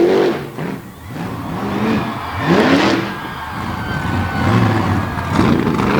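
A second-generation Ford Super Duty pulling truck on a Patrick chassis, with a 540 cubic inch engine in the back, roars loud and steady at an all-star pulling event, its pitch rising and sweeping repeatedly across the pull.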